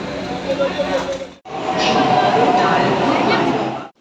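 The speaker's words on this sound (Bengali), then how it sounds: "Delhi metro system, pink line, আর ওই দিকটা হচ্ছে ইয়েলো লাইন" A Delhi Metro train on the Pink Line runs with a loud, steady rumble and rush of wheels and air, briefly cutting out before resuming, while people talk nearby.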